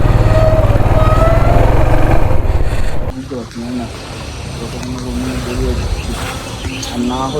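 Motorcycle engine idling on a Himalayan off-road bike trip, arriving at a customs office on the Nepal route: a loud, steady low rumble for about three seconds, then the engine drops away as talk carries on over background noise.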